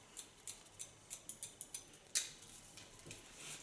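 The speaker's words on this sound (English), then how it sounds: "Point cut you have to practice, otherwise you cut your fingers." Sharp scissors snip short hair during point cutting, a quick run of about ten light, close clicks in an even rhythm, then a louder single snip and a few faint ones.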